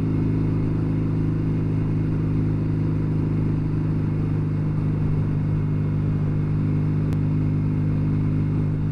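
An old Norton 650SS motorcycle on the road, its engine a steady, loud, close drone with wind noise throughout, holding an even pitch with no talk.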